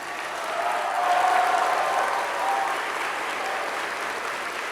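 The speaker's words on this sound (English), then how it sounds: "I'd like to invite the members of the graduating class to reciprocate by applauding your family, your friends, the faculty and staff" A graduating class at a university convocation ceremony applauds families, friends, faculty and staff, a steady broad wash of clapping from a large crowd that swells and then holds, with no talking over it.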